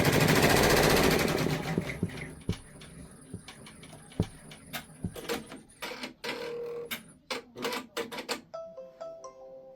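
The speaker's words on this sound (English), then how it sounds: "Just going to start it again to finish up that stitching." An OESD multi-needle embroidery machine stitching out a design in hoop, loud fast rattling needle bursts at first, then choppy intermittent clattering runs of stitching with short pauses and a few electronic beeps near the end.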